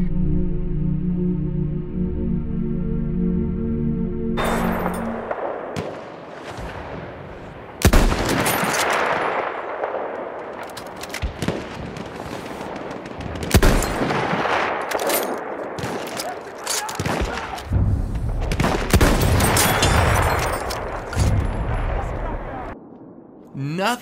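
Sniper rifle shots in the video game Battlefield 1 fire as a series of loud, sharp cracks with rumbling tails, mixed with other battle noise and a steady background din across the whole passage.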